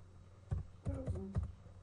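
A few distinct key presses on a computer keyboard, close and moderately loud, as four or five quick taps in an uneven rhythm over a low background hum.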